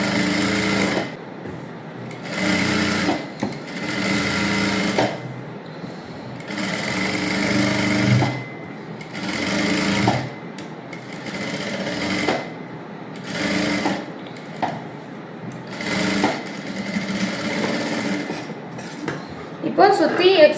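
A sewing machine stitches a princess-cut blouse in sizes 34 to 38, running in repeated bursts of a few seconds each with short pauses between, loud and close.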